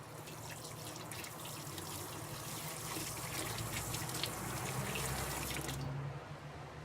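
An espresso machine dispersion screen rinsed under running tap water, a steady close gush and splash that continues evenly for several seconds before cutting off abruptly.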